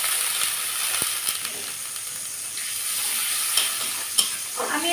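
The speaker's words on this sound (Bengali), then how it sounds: "তার সাথে মশলাটা কষানোর জন্য একটুখানি জল।" Spice paste sizzles steadily in a pan with salt and a splash of water, a continuous hiss and crackle with a few sharp pops near the end, heard alone.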